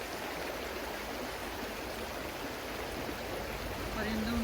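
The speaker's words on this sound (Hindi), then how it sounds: "बहते हुए पानी की आवाज़" A mountain stream in Kyrgyzstan rushes in a steady, close, full-bodied wash of flowing water that continues unbroken throughout.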